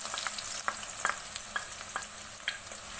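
Sliced onions sizzle in hot oil as they turn golden, a constant close frying hiss dotted with small crackles and pops, with no talk.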